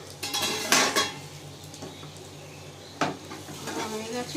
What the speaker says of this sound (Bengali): ঢাকনাটা খুলে দেখি হয়ে গেছে কিনা